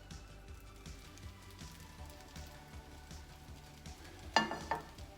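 A cabbage frittata fries in a covered pan over medium-low heat, giving a soft, even crackle with faint low rumble, and two brief louder clatters near the end.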